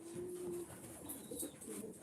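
A racing pigeon coos softly and close by in a few short low murmuring phrases while birds are being basketed.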